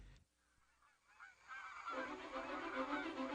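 A flock of migrating birds honks, goose-like, rising out of near silence into a steady, dense chorus of overlapping calls that grows louder and fuller toward the end.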